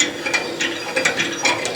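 A handle on a wood- and coal-fired grill with heavy 304 stainless steel grates is turned to raise or lower them, giving a rapid run of close metallic ratchet clicks in quick bursts.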